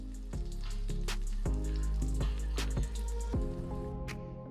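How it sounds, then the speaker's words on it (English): Taro slices frying in a pan for a braised belly pork recipe, close crackling sizzle with sharp pops and spatters over a steady hiss, no talking. "The taro should also be fried for 3 minutes on each side."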